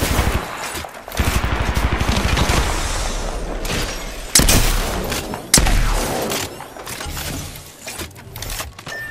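Rapid gunfire bursts rattle through an Apex Legends fight, loud and close in the first half, then scattered sharp shots and thuds, with little talk.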